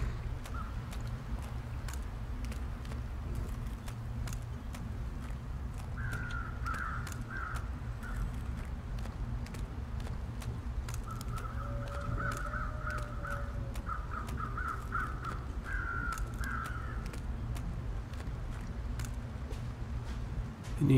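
Crows caw in bursts over a constant low wind-like drone in the wintry survival game The Long Dark, with the calls fairly distant and separated by quieter stretches.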